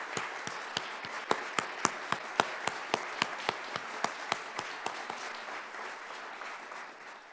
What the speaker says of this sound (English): I invite you to join me in a round of applause for him.